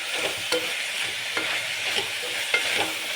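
Vegetables frying with salt in a pan, giving a steady close hiss of sizzling broken by a few sharp scrapes as they are stirred, with no voices.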